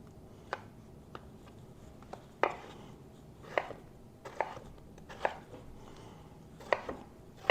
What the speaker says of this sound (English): I'm cutting pretty much the same way in cubes